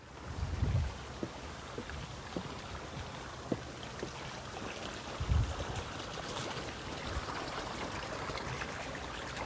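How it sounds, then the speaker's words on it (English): Water flows out of a wetland outlet as a steady broadband rush and trickle, heard at moderate distance. Wind buffets the microphone, and a few low thumps come through. "here's where the water comes out"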